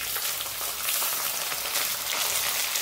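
Capsicum frying with onions in a pan, a steady dense sizzle and crackle that runs continuously and fairly loud throughout, with no voices.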